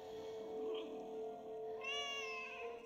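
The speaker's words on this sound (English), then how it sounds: "Hey, yo, what the cat doing?" A cat meows in the video game Another Sight, a soft drawn-out cry with a higher second call, over a steady ambient hum.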